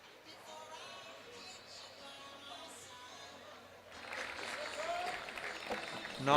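Spectators applauding at a university outdoor athletics championship as a runner comes down the home straight, a distant crowd patter that swells noticeably louder partway through, mixed with commentary.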